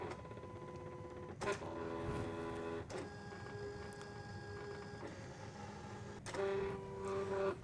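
An electronic craft cutting machine cuts out an image for glitter favor bags, its carriage motors whirring and stepping in steady bursts with brief pauses between moves, close and continuous with no talking.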